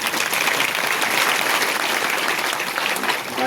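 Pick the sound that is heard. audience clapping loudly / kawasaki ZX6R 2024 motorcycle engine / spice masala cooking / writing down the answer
audience clapping loudly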